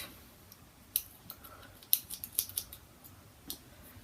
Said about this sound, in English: I'm just going to cut this tail off.